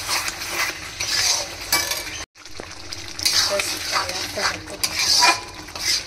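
Masala frying in oil in a pan with sour curd and kasuri methi, a close crackling sizzle broken by repeated scraping and clinks of a metal spoon against the pan, with a brief silent gap in the middle.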